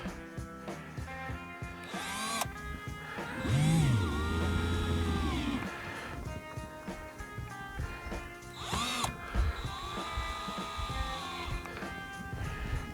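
Power drill driving screws into plastic tail light housings on an old Ford truck, a few short whirring bursts with pauses between, close and moderately loud.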